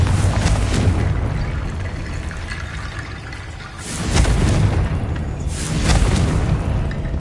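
Confringo blasting spells in a Harry Potter video game go off as deep booming explosions, with three heavy blasts swelling out of a loud rumbling roar.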